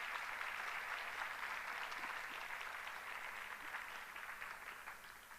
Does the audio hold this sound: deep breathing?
no